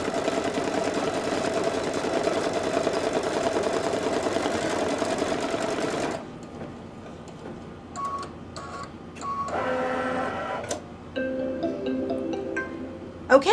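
Embroidery machine stitching a fabric tack-down, a fast, even mechanical whir for about six seconds that stops, followed by quieter clicks and short bursts of machine movement.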